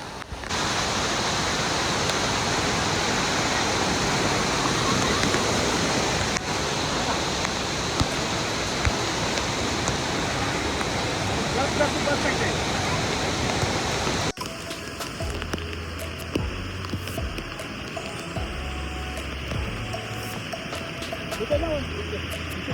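A monsoon waterfall at Tamhini Ghat roars as a dense, continuous rush of water that later drops to a lower, more distant wash.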